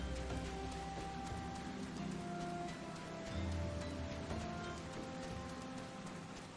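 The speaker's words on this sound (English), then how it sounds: "it's raining in Thanalan" Rain falling in Thanalan in the video game Final Fantasy XIV, a soft, steady patter and hiss of drops at low volume, unbroken throughout with no talking.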